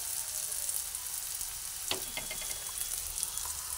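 Marinated chicken pieces are tipped into onions already frying in a karahi for a cream chicken curry, giving a sudden burst of scattered crackles over a steady close sizzle of hot oil.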